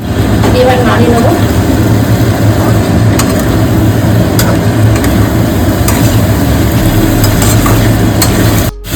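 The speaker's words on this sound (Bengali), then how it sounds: "এবার নাড়িয়ে নেবো।" Fried chicken is stirred into a spice mix in a pan for Murg Lahori, giving a continuous close sizzle with scraping and stirring sounds that run almost without a break and then cut off abruptly.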